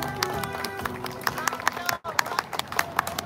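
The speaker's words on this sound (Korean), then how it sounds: "박수를 모시겠습니다." An audience at a Korean labor union rally claps continuously to welcome a speaker, the applause close and dense with a brief dip partway through.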